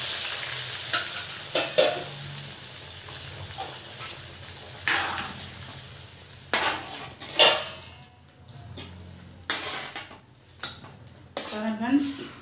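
Spices tempering in hot oil in a pan for a dried fish tamarind curry: a steady sizzle broken by repeated spatula scrapes and clatters, close and fairly loud, with a voice speaking briefly at points.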